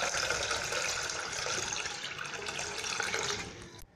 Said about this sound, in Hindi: एक पैन ले लीजिए, इसमें आपने मैक्सिमम 2 से 3 गिलास पानी ऐड कीजिए।